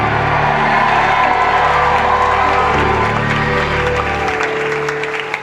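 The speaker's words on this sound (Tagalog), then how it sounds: "Pumalakpak at sumigaw ng Amen!" A church congregation claps loudly and continuously while scattered voices shout and cheer, the sustained applause fading slightly toward the end.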